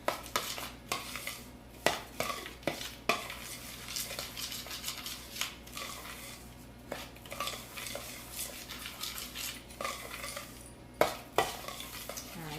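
A spoon mixes vanilla into a matcha chocolate mixture in a bowl, giving quiet, close scraping and clinking strokes with occasional sharper knocks against the bowl.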